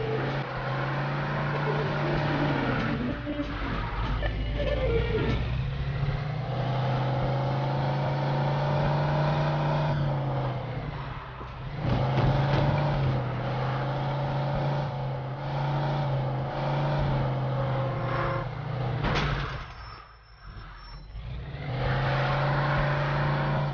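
A car driving in Mafia 2, its engine droning steadily and revving up and down through gear changes, loud and continuous, with a brief lull midway.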